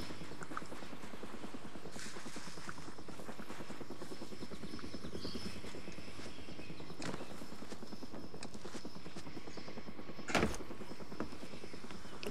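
Helicopter from the Xbox game Far Cry Instincts, a steady rotor drone that holds throughout at moderate distance, with a brief louder swell near the end.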